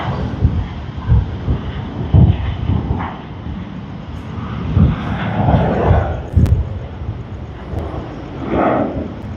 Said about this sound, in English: And we have Jetstar, the first departure of the day